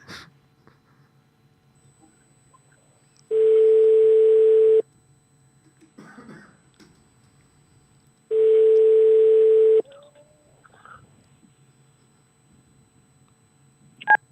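An outgoing telephone call rings back with two long, steady tones separated by several seconds of quiet line hiss and faint clicks.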